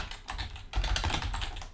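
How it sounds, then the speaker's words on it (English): Steady typing on a computer keyboard, a dense run of close, soft clicking keystrokes continuing throughout with no talking. "I keep typing the wrong key."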